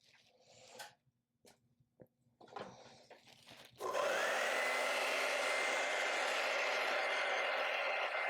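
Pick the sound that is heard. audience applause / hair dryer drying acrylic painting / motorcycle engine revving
hair dryer drying acrylic painting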